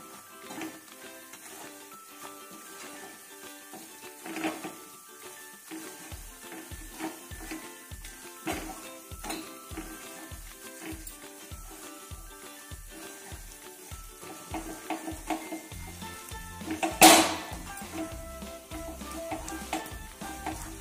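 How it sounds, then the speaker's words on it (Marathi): Crushed peanuts stirred into melted jaggery in a pan for chikki, giving soft, rhythmic scraping strokes that repeat steadily at close range over a faint background hum. "याच्यामध्ये आता आपण शेंगदाण्याचा कूट टाकणार आहोत. व्यवस्थित हलवून घ्यायचं."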